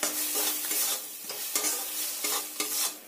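Salt, turmeric and Kashmiri chili powder fry and sizzle in a pan for egg curry, with a steady hiss broken by repeated scraping strokes of a stirring spoon, close and fairly loud, with no talking.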